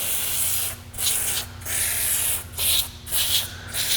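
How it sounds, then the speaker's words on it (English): Penetrating oil sprayed onto a brake rotor during front hub work on a 2005 Toyota 4Runner, several close hissing spray bursts separated by short gaps, over a low steady hum. "Try that penetrating oil again."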